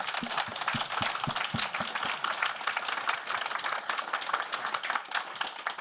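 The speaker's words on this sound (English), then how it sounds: "if everybody could give a huge round of applause for our panel" A small audience applauds a technology leadership panel, with a few sharp, close claps at the start giving way to a continuous patter of clapping from the crowd.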